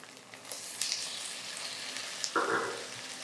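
Onion and tomato sizzle and crackle in a hot pan, a soft steady frying hiss with a brief louder burst near the end as they are stirred.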